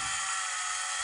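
A steady, unbroken high-pitched buzz of a saw cutting firewood in a roleplay video game, loud and constant throughout, with no one speaking.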